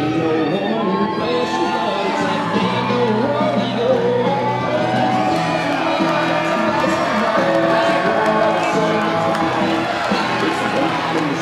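A crowd at an Appalachian indie professional wrestling fundraiser show in the CK Wonderdome cheers and shouts continuously, a loud, dense roar of overlapping voices and whoops throughout.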